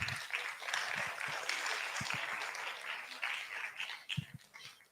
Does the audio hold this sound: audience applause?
yes